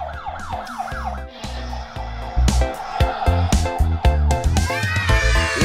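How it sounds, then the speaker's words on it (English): A wailing ambulance-style siren rises and falls a few times at the start, then gives way to bouncy, upbeat music. "Ambulance."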